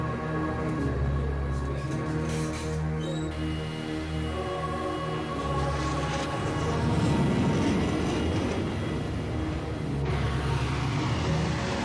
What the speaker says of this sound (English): North American RA-5 Vigilante hooked up to a steam-driven launch catapult.